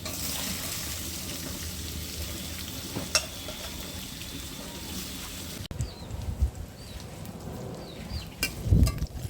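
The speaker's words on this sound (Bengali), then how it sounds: "পেঁয়াজ কুচানো দিয়ে দিচ্ছি" Chopped onions go into hot oil in a home kitchen for a skin-on chicken curry, giving a steady broadband frying hiss with stirring clatter and a few louder scrapes near the end.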